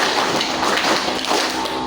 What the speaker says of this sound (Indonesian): Tepuk 1, tepuk 2, tepuk 3, tepuk 4, tepuk 5